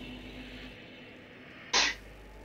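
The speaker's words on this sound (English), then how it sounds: "And I'm going to sneeze." A single short, sharp sneeze bursts out close to the microphone, loud against a quiet background with a faint steady hum from a game.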